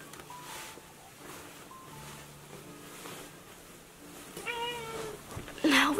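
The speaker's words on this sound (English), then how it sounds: "Now it looks as though my cat has decided to come back." A house cat gives a few short meows in a quiet indoor room, faint at first and louder near the end, with soft background noise and a brief rustle.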